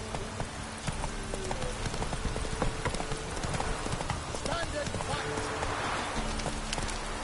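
Horse in The Witcher 3: Wild Hunt gallops with rapid, steady, close hoofbeats throughout, under game ambience and music, with a voice speaking briefly.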